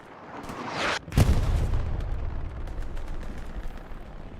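Anti-tank gun firing at a tank in Hell Let Loose: one sudden heavy blast cracks out after a rising rumble, then a long rolling echo fades.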